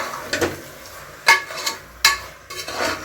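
A metal spoon scrapes and clinks against a pan while chicken liver fry with garam masala is stirred, a few distinct sharp strokes over a faint sizzle, close and alone.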